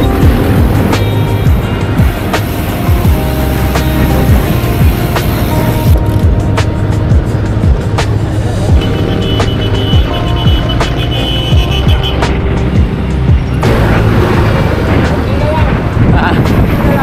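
Road traffic along the drive from Manila to Baguio via Kennon Road, passing through Bulacan: a steady, dense rumble of cars and trucks that holds throughout, with occasional beeps and sharper vehicle noises on top.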